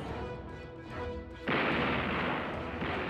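The USS New Jersey's 5-inch naval guns firing on a Japanese minesweeping trawler: a dense, sustained roar of rapid gunfire that bursts in suddenly after a quieter opening and stays loud to the end.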